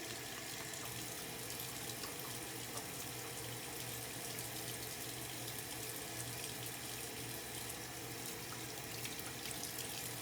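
A faucet runs steadily into a sink while someone washes their face, a faint, constant splashing stream with no talking.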